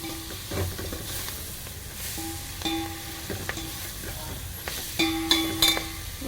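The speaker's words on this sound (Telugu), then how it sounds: "దీంట్లో మెంతి కూర వేసి ఫ్రై చేద్దాము" Fenugreek leaves frying in a pan for vegetable curry, a quiet steady sizzle with intermittent spatula taps and scrapes scattered throughout, close and fairly soft.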